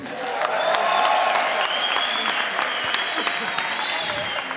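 Loud, sustained audience applause and cheering at a Spanish-language freestyle rap battle event, a broad wash of clapping from a large crowd with a faint voice underneath.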